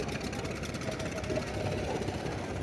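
Several passenger launches slowly backing out of Charmonai river ghat one by one produce a low, continuous diesel rumble, faint and steady throughout with no clear breaks.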